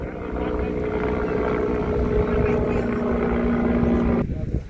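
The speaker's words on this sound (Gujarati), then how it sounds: "હેલિકોપ્ટર આવી ગયું પિકઅપ કરવા" A helicopter drones steadily overhead near Dumas beach in Surat, with a continuous low rotor and engine hum that cuts off abruptly near the end.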